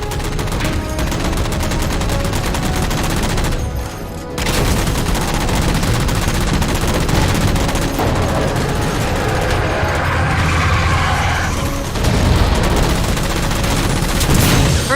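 Rapid automatic gunfire in the Halo video game as jammers are shot down, with dense, loud, sustained bursts and a brief lull near the middle before the shooting resumes.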